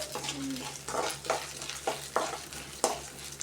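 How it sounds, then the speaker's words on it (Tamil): Mustard seeds and chana dal sautéing in hot oil in a pan, a continuous soft sizzle broken by about six rhythmic scraping stirs, close up. "ஆயில் கடுகு எல்லாத்தையும் போட்டாச்சு. நல்லா வதக்குலாம்."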